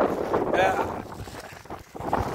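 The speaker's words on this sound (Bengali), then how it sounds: "আর বাতাসের আওয়াজ ফোন ফোন ফোন ফোন করতেছে" Strong gusty wind by a river rumbles and buffets the microphone while a person talks.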